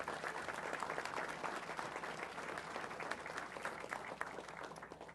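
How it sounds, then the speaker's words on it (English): A crowd at a city council meeting applauds steadily and quietly for several seconds, dense clapping heard from some distance with no one talking over it. "Let's give him a round of applause."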